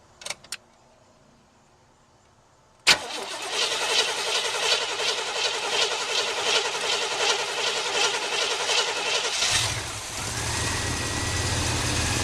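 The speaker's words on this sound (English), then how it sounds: "let me go ahead and get this car fired up" Keys jangle faintly, then a car with a dry Quadrajet carburetor cranks and catches with a sudden burst, settling into a loud, steady idle that drops in tone near the end.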